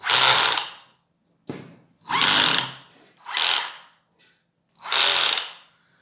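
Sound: cordless drill clutch clicking

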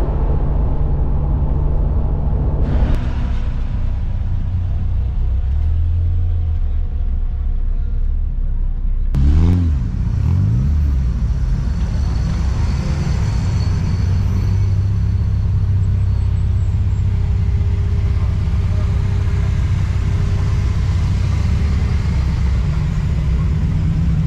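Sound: modified car driving along the road, engine revving

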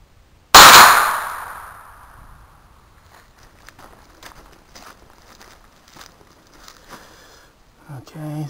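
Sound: Hi-Point 995 carbine firing truncated cone bullets at target

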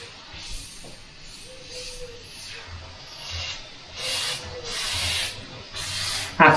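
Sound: Badger airbrush spraying grainy paint

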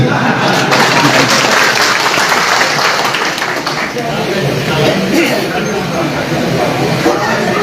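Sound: audience applause at a political speech

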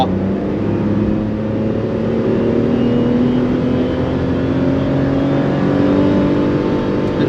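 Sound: Suzuki Celerio car accelerating from 60 to 100 km/h

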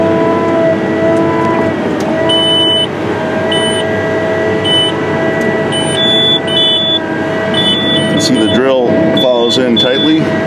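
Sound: tractor auto guidance turn alert beeps

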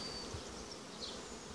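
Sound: honey bees buzzing as they are shaken off

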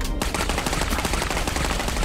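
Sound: gunshots from the video game Clive Barker's Jericho

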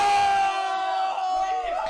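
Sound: crowd cheering

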